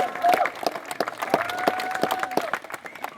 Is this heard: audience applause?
yes